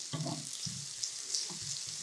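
Maultaschen frying in oil in a pan, a steady soft hiss and crackle with occasional light pops and scraping, fairly quiet and continuous.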